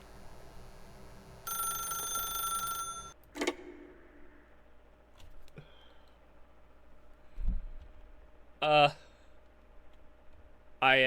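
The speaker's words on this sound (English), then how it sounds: "then pick up the phone" A telephone rings in The Stanley Parable, a single bright burst of ringing early on that stops abruptly, followed by quiet room tone, a few soft clicks and knocks, and short chirpy electronic bursts later.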